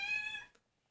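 A house cat meows once, close and clear, the call fading after about half a second into silence.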